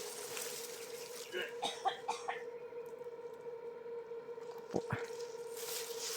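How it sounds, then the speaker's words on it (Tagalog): Wet retching and gagging sounds come in bursts over a steady low hum, with a couple of sharp heaves near the end. "Nagsusuka."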